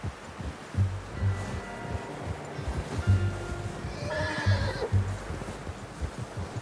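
A horse in the video game Red Dead Redemption 2 gives a shrill, wavering whinny partway through, over a steady rhythm of hooves clopping nearby.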